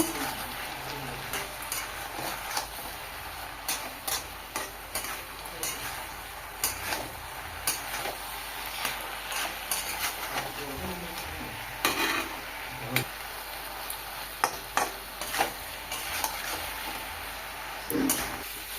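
Water spinach sautés in a pan with chili, turmeric and roasted cumin powder, a soft steady sizzle broken by repeated scraping and clacking stirs of a spatula against the pan, close and fairly loud.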